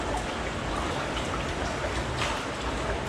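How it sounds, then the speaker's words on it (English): Heavy rain pours steadily as a dense, even hiss of falling drops, with no talking heard. "there's a ton of rain right now"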